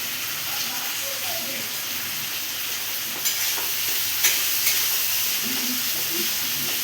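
Tomatoes, salt and spices fry in oil for Bengali boal fish curry, hissing in a steady bright sizzle with occasional stirring taps, close and continuous.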